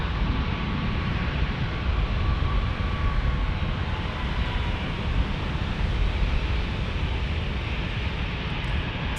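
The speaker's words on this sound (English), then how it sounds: "Here's this Max going to San Francisco." A Boeing 737 MAX jet departing an airport, a steady, broad, roaring wash of engine noise that stays loud and even throughout with no talk.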